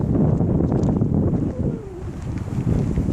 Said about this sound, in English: A bit windy still,